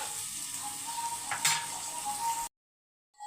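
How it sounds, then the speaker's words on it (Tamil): Three medium onions sautéing in oil with cinnamon and cloves, a steady close sizzle with a faint stir near the middle, cutting off abruptly before a short burst returns. "ஆனியன் மீடியம் சைஸ் ஆனியன் வந்து ஒரு மூணு சேர்த்துருக்கேன் அப்படியே வதங்கட்டும்"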